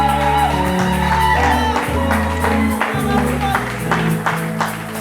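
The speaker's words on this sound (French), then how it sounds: "Des cris de triomphe, des cris de joie." Congregation at a French-language church healing service shouting and cheering in joy and triumph, a loud sustained crowd roar with whoops over steady music throughout.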